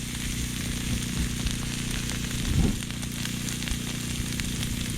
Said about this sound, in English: sizzling the butter